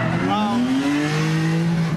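Race cars roar past at the PBIR track, their engine notes sweeping upward and overlapping in a loud continuous drone, with a voice talking faintly beneath.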